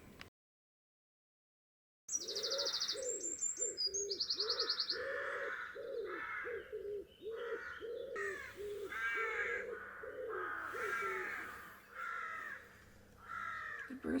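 Crows caw noisily near a van campsite in Ireland, a rapid series of harsh repeated calls mixed with other chirping birds, loud and close after a brief silence.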